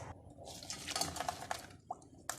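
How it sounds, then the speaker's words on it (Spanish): Water pours into a saucepan in a home kitchen while potatoes cook nearby, a short splashing, trickling stream with uneven bursts that stops, then a final quick splash. "Por aquí le voy a poner agua a la cacerola"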